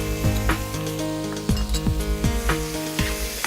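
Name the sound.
stirring Schezwan sauce in sizzling pan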